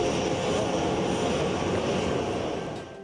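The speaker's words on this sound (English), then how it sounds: "that's a plane from Israel just moments after touching down in the United Arab Emirates" A passenger airliner from Israel, just landed in the United Arab Emirates, gives off a loud, steady engine roar up close, easing slightly at the end.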